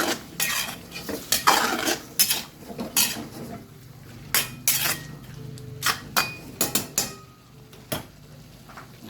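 A metal utensil stirs chicken adobo with fish sauce and cream in a pan, giving a series of sharp clinks and scrapes against the pan with brief pauses between them. The sound is close, with faint background noise and no speech.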